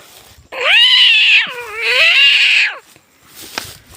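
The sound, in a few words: cats fighting and yowling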